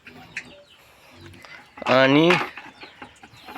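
Chickens cluck while being fed chicken entrails as feed, with one loud drawn-out squawk amid scattered softer clucks and someone talking nearby.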